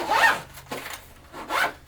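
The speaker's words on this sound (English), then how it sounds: "Alright, we'll zip this bad boy up." The zipper on an HK Army Expand roller gear bag is pulled closed in a few quick, close rasping strokes separated by short pauses.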